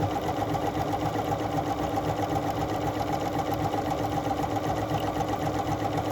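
A Bernina 3 Series sewing machine stitching the bar tack of an automatic buttonhole, a fast, even mechanical whirr with rapid needle ticking, close and steady throughout with no pauses and no talk.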